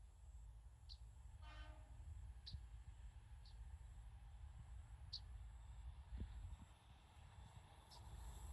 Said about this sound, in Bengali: ওই যে ট্রেন চলে আসছে